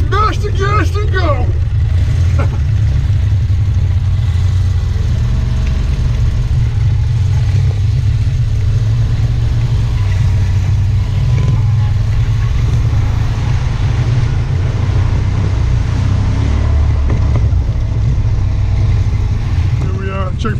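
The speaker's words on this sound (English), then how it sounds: "Just mash the gas and go!" A car engine drones loudly and steadily from inside the vehicle during a road rally, a broad low rumble that holds throughout while a person talks over it.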